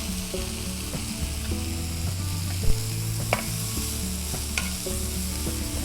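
Crickets (kamaru) sauté in a pan with a splash of soy sauce. A constant close sizzle is broken by occasional spatula taps and scrapes, with steady tonal music in the background.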